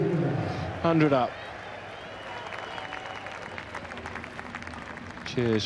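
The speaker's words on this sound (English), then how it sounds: "Cheers from the crowd." Partisan spectators at a T20 Blast quarterfinal cricket match between Kent and Lancashire break into bursts of cheering and applause, short loud swells at the start and end with a commentator talking through the quieter middle.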